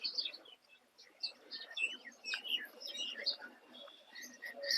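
Many birds chirping and tweeting in a dense, continuous chorus, fairly distant and outdoors in a park, with no talking.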